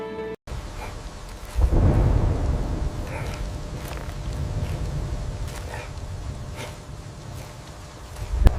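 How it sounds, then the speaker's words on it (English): A thunderstorm with heavy rain lashing down, a deep rumble of thunder swelling after a sharp crack and rolling on under the steady hiss of rain, with a few louder spatters near the end. "Rain lashed the fortress, and thunder masked the sound of falling grit"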